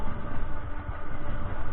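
Train at Santragachi Junction, a continuous loud rolling rumble with faint rhythmic clatter and no voices.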